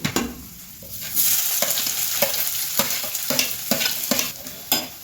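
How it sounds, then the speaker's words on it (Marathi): Onion sizzles and fries in a hot pan, close and steady, broken by repeated scraping stirs of a spoon against the metal. "कांदा तळसून झालेला आहे."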